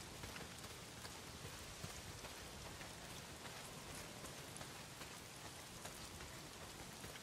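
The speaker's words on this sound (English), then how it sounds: "not if it's pissing down rain" Heavy rain pours down in the video game Days Gone, a steady, dense wash of drops striking surfaces with no break, fairly quiet and continuous with no voices.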